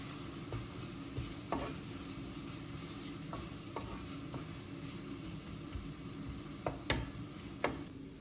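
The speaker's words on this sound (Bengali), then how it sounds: "এখন ওই তেলের মধ্যে পেঁয়াজগুলো দিয়ে দিব" Onions frying in hot oil left over from browned meat, a low steady sizzle broken by occasional stirring scrapes and clinks from a utensil, fairly quiet and close.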